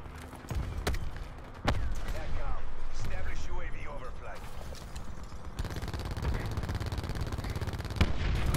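Gunfire in Call of Duty Black Ops 4, with repeated sharp shots and bursts over a busy game mix, loud and close throughout, with a player's voice talking over parts of it.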